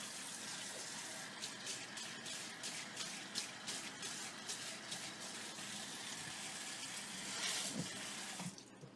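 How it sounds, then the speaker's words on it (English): Steady running water from a tap splashes into a kitchen sink during rinsing, a continuous broadband rush with small fluctuations that swells briefly near the end before cutting off. "we're going to rinse out the sink first of all"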